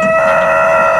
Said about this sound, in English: In between the rooster squawking